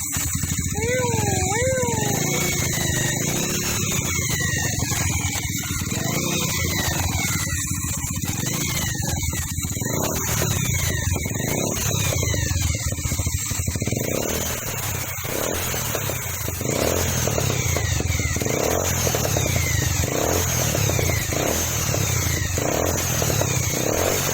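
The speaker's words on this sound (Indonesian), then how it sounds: "Ini ciri khas bunyi bajai ini bro." A Bajaj auto-rickshaw engine with a loose valve timing chain runs steadily nearby with a buzzing, rattling drone, rising and falling slightly in pitch, with street noise around it.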